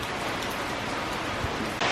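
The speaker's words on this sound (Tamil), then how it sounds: "மழை பாருங்கள், பசங்க ஸ்கூலில் இருந்து வரும்போது நல்ல மழை." Heavy rain pouring down steadily as children come home from school, a dense, even hiss of falling water with no breaks, swelling slightly louder right at the end.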